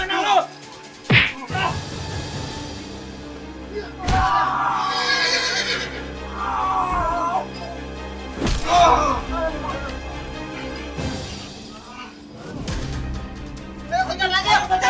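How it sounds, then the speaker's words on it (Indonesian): A horse neighs and whinnies several times, loud and close, with thumps and slaps between the calls and people talking at the same time. "Itu kuda konjrengnya."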